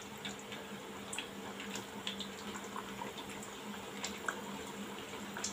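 Potato french fries dropped into well-heated oil on a high flame at home, giving a steady, close bubbling sizzle with small crackling pops throughout, no voices.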